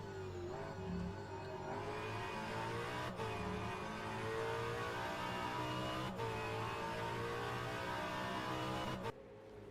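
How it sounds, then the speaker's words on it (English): A V8 race car at full speed in sixth gear down a straight at Bathurst in a sim racing game, its engine a loud, sustained high-pitched drone rising steadily before cutting off near the end. "Full speed down at 6th gear, up to 298 kilometres an hour."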